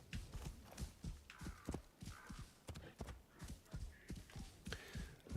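A horse being ridden in the video game Assassin's Creed Shadows, its hooves clip-clopping in a quick steady rhythm of soft thuds, fairly faint and heard alone without speech.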